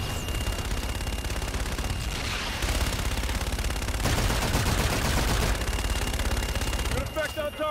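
Sustained aircraft gun-run fire in Call of Duty: Infinite Warfare, a loud continuous roar of rapid shots lasting several seconds with brief shifts in intensity, ending in a break of scattered bursts.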